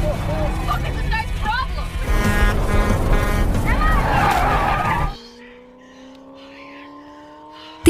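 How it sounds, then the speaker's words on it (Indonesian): A car from the film Spare Parts overtakes at speed with loud engine roar and tire skidding for about five seconds, then cuts to a quieter scene with a faint steady tone. "tiba-tiba mobil mereka disalip oleh Sam"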